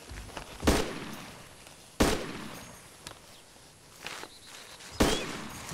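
Gunfire in the video game DayZ: four separate sharp shots spaced roughly a second or more apart, each with a booming tail that fades out, heard at moderate distance with no talking.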